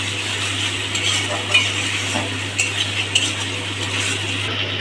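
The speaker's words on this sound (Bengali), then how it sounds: "মশলাটা ভালো করে ভাজার জন্য আমরা সামান্য একটু জল দিয়ে দেব।" Spice masala with a little water fries in a pan while a metal spoon stirs and scrapes, producing a soft sizzle with light clinks over a steady low hum, no voices.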